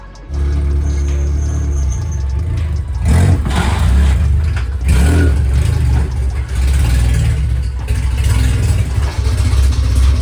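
A sport compact drag race car at County Line Raceway revs hard. The engine roars loud and close in repeated surges over a rough low rumble, with no voices.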